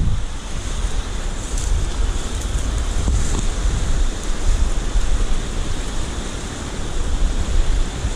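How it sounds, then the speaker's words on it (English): Steady broadband rush of water pouring into a pool outdoors near a roadside pull-off, continuous and fairly loud, with no voices. "that water rushing into a pool"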